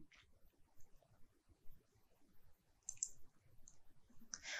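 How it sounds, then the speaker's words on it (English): Mouse clicks on a save button at a computer during concrete cross-section design software work, a few sharp faint clicks in a quiet room. "I click on save and return."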